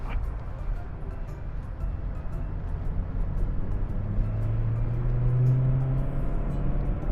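A 2016 Honda Civic 1.8 EL accelerates, its engine drone heard from inside the car, growing louder as the pitch climbs steadily over a low road rumble.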